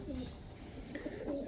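Pigeons cooing at a backyard bird area with a barbecue spot, soft low throaty coos repeating close by over faint background noise.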